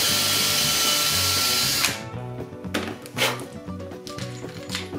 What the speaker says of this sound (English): Drill a clear hole through the top piece.